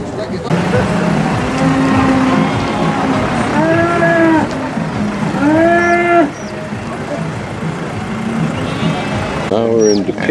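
Cattle at the Otavalo animal market moo in several long, drawn-out calls, loud and near, over steady crowd noise and people talking.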